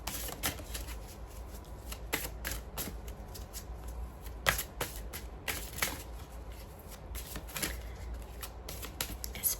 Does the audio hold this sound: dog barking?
no